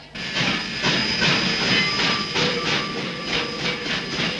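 A steam train arrives at a station, loud steady hissing steam layered with a faint high whistle tone and soft rhythmic chuffing pulses, close by and continuous.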